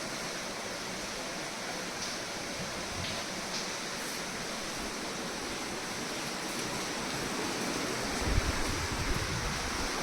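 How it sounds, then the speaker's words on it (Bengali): Floodwater from a cloudburst pours steadily into a bedroom, a dense continuous rushing roar that stays even throughout, close and loud, with a faint thump near the end. "ফুল ফুল জল ঢুকছে, ক্রমশ জল বাড়ছে।"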